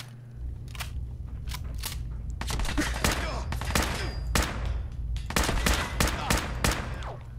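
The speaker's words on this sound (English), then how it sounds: "Sometimes you just shoot without even thinking." Repeated gunfire in Fallout 4 rings out as a run of sharp, loud shots in quick bursts, some rapid like automatic fire, over a steady low game hum with no talk.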